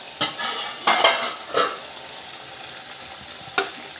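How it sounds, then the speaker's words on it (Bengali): A lid comes off a pot of simmering radish for a Bengali fish curry, with a few close metallic clanks and scrapes over the first second and a half, then a faint bubbling hiss and one last clink. "ঢাকাটা খুলছি"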